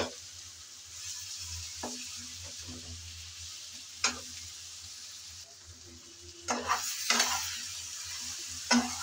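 Marinated hog plum pieces being stirred in hot oil with whole five-spice for pickle, giving a steady close sizzle with scattered scraping strokes of a utensil that grow busier toward the end, no talking.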